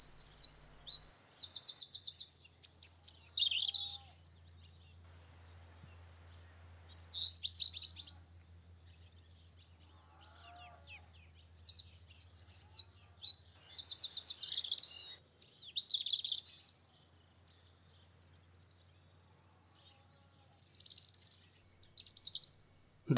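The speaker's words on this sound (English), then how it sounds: "This blue-fronted redstart sat on a low perch and chirped relentlessly." A blue-fronted redstart on a low perch chirps relentlessly in repeated high bursts of short notes, separated by brief pauses, with no talking.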